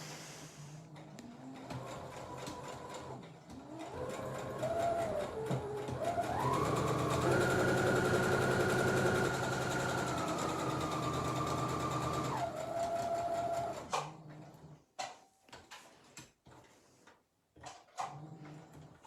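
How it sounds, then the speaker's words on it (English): A sewing machine runs in steady bursts of rapid stitching on fabric for an Easter bunny bag, with a continuous whir that briefly stops between short runs, loud and close, with no voices. "So 3 stitches forward and then 3 stitches into reverse just to secure that"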